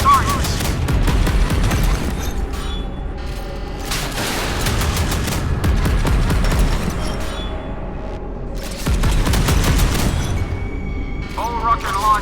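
Naval guns fire repeatedly in a modern warship battle video game, loud booming volleys in bursts mixed with game music and effects, with radio-style voices heard at times.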